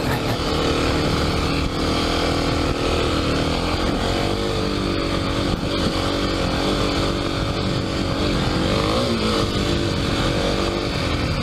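A Kawasaki KLX300 dirt bike, fitted with Tusk DSport and Pirelli MT21 tires, climbs a trail in first gear at steady throttle, its engine a loud, continuous close-up drone with slight pitch wavering and no pauses.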